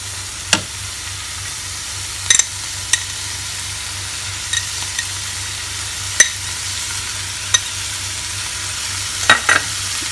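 Cauliflower with herbs sizzling steadily in a pan, a soft continuous frying hiss broken by occasional sharp scrapes and clicks of a spoon stirring, close and alone.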